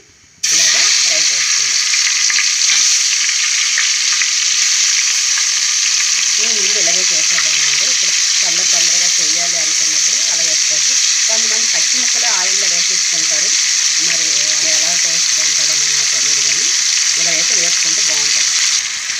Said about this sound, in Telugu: చూసారు కదా ఇది ఫ్రై అవుతుంది అనమాట